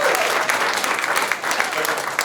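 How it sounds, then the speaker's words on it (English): An audience at a town hall meeting applauds steadily, a dense wash of many hands clapping that holds for the whole stretch, with no voices standing out. "Give yourself a warm round of applause."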